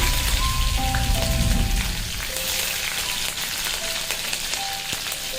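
Mustard seeds, cumin and chili sizzle and crackle steadily in hot oil, a dense close frying hiss with scattered pops and a faint tonal beep, no talking.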